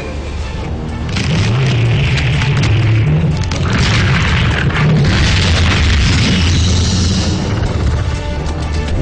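A lava eruption explodes in the Lost Planet video game with a loud, sustained roaring boom that swells after about a second and rumbles heavily for several seconds, dense and continuous.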